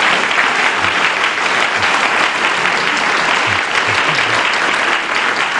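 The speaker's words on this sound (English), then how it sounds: "ask all of you to extend a really warm round of applause to our great" Warm, loud audience applause for panelists at a sustainable transport conference, a dense, continuous roar of many hands clapping at steady volume, close and filling the room.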